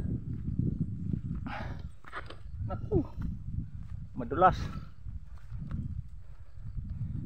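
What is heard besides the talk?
horse walking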